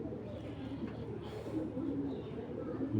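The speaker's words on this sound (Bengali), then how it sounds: "রানিং বাচ্চা করা কবুতর এগুলা" Giribaz tournament pigeons from a breeding pair cooing in a continuous low, soft murmur, with steady bird sounds filling the short stretch.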